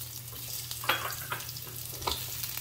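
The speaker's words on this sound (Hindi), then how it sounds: "हम ये परवल को फ्राई करेंगे।" Pointed gourd fries in oil left over from frying potatoes, a soft steady sizzle under a low hum, with a few louder stirring scrapes.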